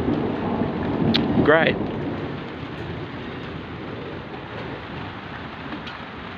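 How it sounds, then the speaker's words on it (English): A steady heavy rain pours down with a rumble of thunder early on, and a short spoken word comes through under the downpour. "It's just rain."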